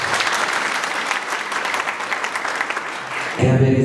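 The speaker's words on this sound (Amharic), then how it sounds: "አጨብጭቡለት።" A church congregation claps together in a dense burst of applause lasting about three seconds, then it cuts off abruptly.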